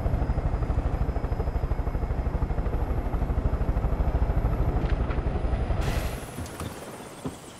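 Helicopter in Far Cry 5 settling down inside a cave, rotor chopping loud and fast in a steady throbbing rhythm, then the engine winding down and fading near the end.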